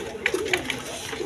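Pigeons coo faintly in a dealer's loft, a few brief soft calls over a low background hum.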